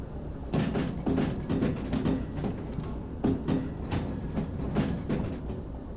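A train running in the Derail Valley game, its wheels and carriages giving rhythmic clattering beats over a steady rolling rumble, close and fairly loud with no voices.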